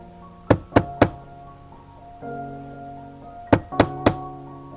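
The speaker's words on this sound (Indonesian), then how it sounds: "terdengar suara pintu kamarku ada yang mengetuk" Knocking on a bedroom door: two bursts of three sharp raps each, close and loud, separated by a quiet pause with a low steady hum.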